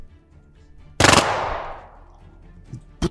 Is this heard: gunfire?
yes